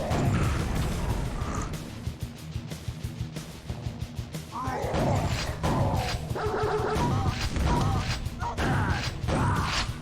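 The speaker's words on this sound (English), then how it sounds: "Nail gun." Quake Remaster nail gun firing, a rapid train of sharp mechanical clicks and thwacks in bursts over ten seconds, mixed with monster growls and impact noises from the game.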